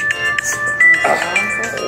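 A mobile phone rings at a city planning and zoning meeting, a steady, moderately loud electronic ringtone repeating under faint room noise and brief voices.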